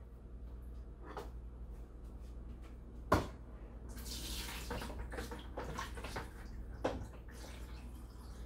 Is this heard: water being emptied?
yes